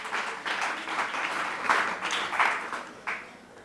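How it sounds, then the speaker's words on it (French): A school festival audience applauds a student contestant, a lively burst of clapping with a few louder swells that tapers off toward the end. "on applaudit Zénaba une fois encore"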